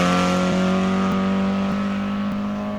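A Ford Escort Mark II RS 2000 on a Longleat hillclimb run, its engine note loud and close, holding a steady high drone with brief dips at each gear change before fading slightly.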